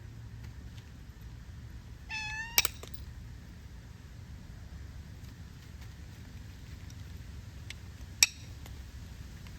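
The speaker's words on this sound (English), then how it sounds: "Here comes Thunin Cat" A house cat meows near a workbench during stone flintknapping, a short harmonic call followed by a second, fainter meow later, over steady low background hum and no talk.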